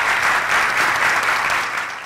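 An audience gives flutist Hubert Laws a full round of applause at an inaugural event, with dense, steady clapping that holds loud throughout and fades slightly at the end.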